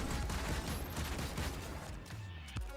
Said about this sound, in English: the spread isn't terrible. It is a shotgun after all